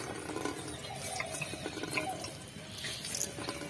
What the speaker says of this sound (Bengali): সেদ্ধ বাঁধাকপির জলটা ভালো করে চিপে নেব।